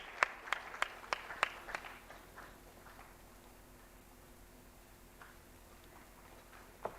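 Applause at a government mineral block auction ceremony: a few sharp, separate hand claps ring out at first, then fade into a quiet room, with one more faint clap at the end.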